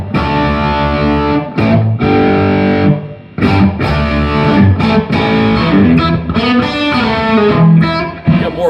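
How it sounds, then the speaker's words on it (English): Electric guitar through a Blackstar overdrive pedal on both channels, strumming chords and riffs, thick and punchy with crunchy bite, played continuously at close range. "Now, here's the same overdrive through both channels."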